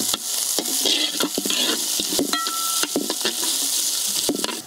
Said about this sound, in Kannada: ಈರುಳ್ಳಿಯನ್ನು ಸ್ವಲ್ಪ ಹುರಿದುಕೊಳ್ಳುವ.